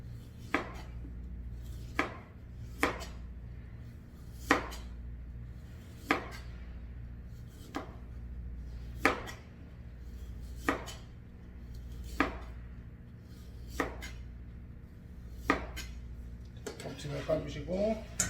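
A knife chops peeled carrots on a cutting board for gat kimchi gujeolpan, about a dozen sharp, evenly spaced knocks over a low background hum, ending in a brief quick clatter.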